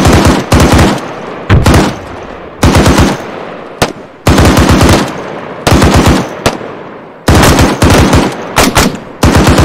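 A machine gun fires suppressing fire in a military video game. Loud, close bursts of rapid automatic fire about a second long repeat again and again, with short gaps between them and no voices over them.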